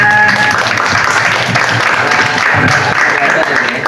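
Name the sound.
audience applause at a film press conference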